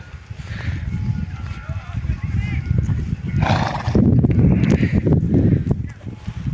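Horses nicker and whinny amid hoof movement and shuffling, while people talk nearby throughout.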